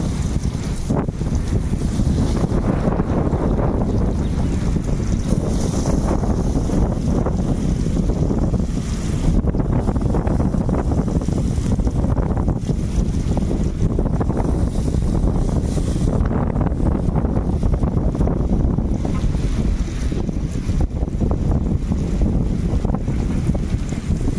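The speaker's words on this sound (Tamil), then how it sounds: "ரொம்ப காத்து நிற்கிறனால நாங்களே ரொம்ப கஷ்டப்பட்டுட்டு தான் இருக்கோம்" Strong wind buffets a seaside beach and roars loudly and without letup into the microphone, gusting in a rough, rumbling wash for the whole stretch.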